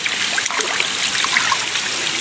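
Hot spring water in Santiago, Agusan del Norte, trickling and gurgling in a steady, close stream with no voices over it.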